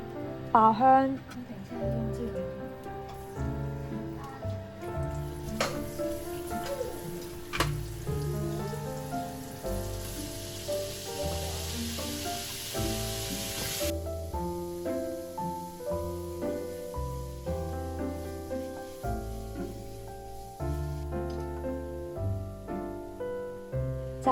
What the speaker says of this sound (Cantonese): 蒜蓉加牛肉， 爆香。